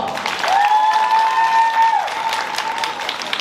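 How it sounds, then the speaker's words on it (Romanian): Audience applause at a school freshman ball in a college hall, a steady wash of clapping with a sustained tone running over it for a couple of seconds, loud and continuous throughout. "Aplauze, vă rugăm"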